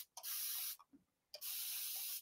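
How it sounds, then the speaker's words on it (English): Two sharp hissing sprays of water from a pump spray bottle, each lasting about half a second, close by with a pause between them. "Now, I have just a spray bottle, and I'm just going to spray it a few times."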